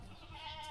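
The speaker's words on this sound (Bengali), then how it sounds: "খুলে গেল কেমনে ছাগলটা" A goat bleating at a rural homestead, one short, faint wavering call heard briefly at a distance.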